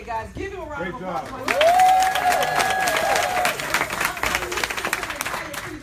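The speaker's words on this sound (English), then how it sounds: "Guys, give him a round of applause." A room of attendees gives a round of applause, steady clapping and crowd murmur lasting several seconds, with voices and cheers mingling over the claps.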